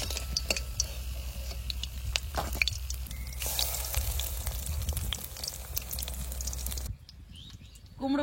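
Pumpkin flower fritters frying in oil give a continuous crackling sizzle with scattered pops and drips, with birds chirping in the background. The sizzle stops abruptly near the end, leaving the quieter outdoor sounds.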